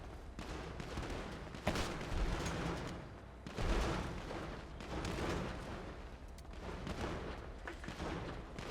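Dense, continuous gunfire and heavy blasts from a GTA V tunnel shootout, loud and sustained across the whole stretch with sharper booms punctuating the roar, no talk over it.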